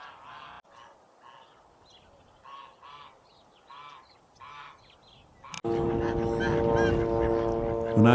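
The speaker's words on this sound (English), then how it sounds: "There were 10 to 20 snow geese walking around there." Snow geese honk outdoors in Southern California in repeated short, fairly faint calls; after about five seconds, a louder, steady droning sound cuts in and covers them.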